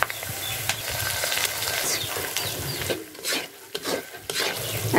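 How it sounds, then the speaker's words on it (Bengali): Onion and garlic frying in a pan, heard close as a constant sizzle with brisk scraping stirs that ease off briefly near the end, with no speech. "আমার পেঁয়াজ আর রসুন ভাজাটা একটু বাদামি কালার চলে আসছে"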